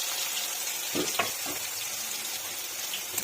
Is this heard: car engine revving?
no